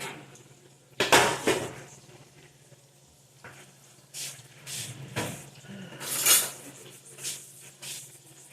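Cookie dough goes into metal pans as they clatter and scrape in a few distinct bursts, with quieter handling sounds between them and a faint low hum underneath.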